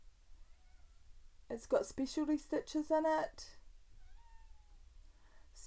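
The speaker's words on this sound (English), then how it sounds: "Excuse my cat if you heard that." A pet cat meows softly indoors, a faint brief meow before and after a stretch of nearby talking, with quiet room tone around.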